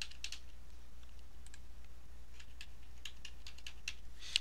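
A password being typed on a computer keyboard at a Windows 8 logon prompt, a run of light, irregular key clicks heard close and quiet over a faint low hum.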